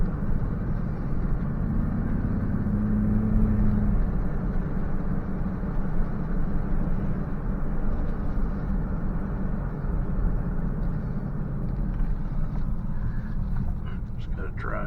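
A car drives slowly through a cemetery on Forest Lawn Memorial grounds in Anderson, SC, its steady low engine and tire rumble continuing evenly throughout while someone talks over it.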